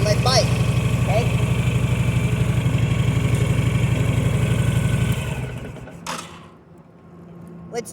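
A motorcycle engine idles with a steady, even throb as the bike creeps in the friction zone, then the sound drops away to a quieter low rumble near the end, with brief bits of voice.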